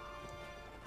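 Horse hooves clip-clopping in the Mount & Blade: With Fire and Sword game, a steady close trot under a constant tonal background hum, with no talk.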